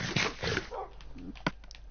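Several dogs beg for food nearby, giving short whimpers, yips and soft barks in a brief uneven burst, fairly close and moderately loud.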